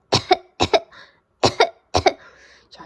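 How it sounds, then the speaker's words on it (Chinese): A little flea coughing in a children's story: four short coughs, each a quick double burst, close and clear in otherwise quiet surroundings with no talking. "没有人听到小跳蚤正在咳嗽诶"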